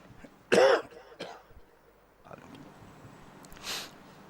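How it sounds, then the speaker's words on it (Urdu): A single loud cough rings out in a quiet imambargah majlis hall, followed by a few softer throat sounds and faint background noise. "ایک دم کھانسی آ جاتی ہے انترے پہ."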